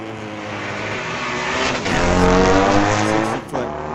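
Diesel class drag race vehicles at Mission Raceway Park's Friday night street legal drags roar past, a loud engine rising in a sustained growl and peaking mid-clip before dropping away.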